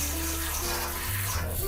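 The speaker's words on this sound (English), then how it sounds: "rinse in cold water" Cold tap water runs steadily over pork skin (rind) being rinsed after boiling, a loud, continuous close rush of water with no talking.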